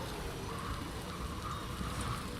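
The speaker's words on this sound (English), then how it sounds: "It is raining" Steady rain falls in the video game Death Stranding 2, an even hiss of drops on the ground without a break.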